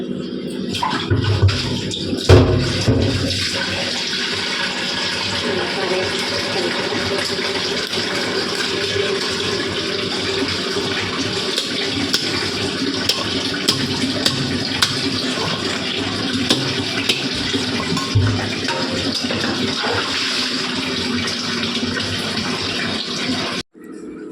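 Tap water runs steadily and loudly over cut fish being washed in a sink, a continuous splashing stream with occasional knocks, ending abruptly as the flow stops.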